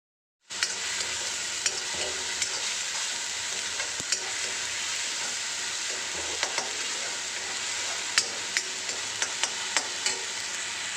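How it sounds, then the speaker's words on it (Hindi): Onion, tomato and spice masala with cumin frying in oil makes a continuous bright sizzle that starts abruptly and holds steady, dotted with small pops and spatter clicks, close and with no voices. "जब तक मेरा प्याज टमाटर भुन रहा है ना"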